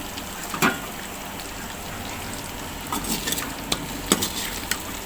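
Chicken tikka masala is stirred in a pan over a low flame, a steady soft sizzle and scraping with a few sharp utensil clinks scattered through it.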